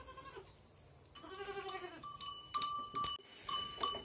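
Goats on a small farm bleat in several short, wavering calls, some higher and sharper than others, close by over a quiet background.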